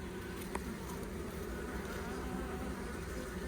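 Honey bees in a five-year-old colony being relocated hum in a dense, steady buzz close over brood comb, continuous and even throughout with no talking.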